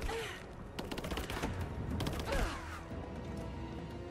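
Gunfire from an enemy below rattles out in Rise of the Tomb Raider, a burst of rapid clattering shots with sharp mechanical impacts and ricochet-like whizzes, fairly close and dense early on, then thinning out, with no talking.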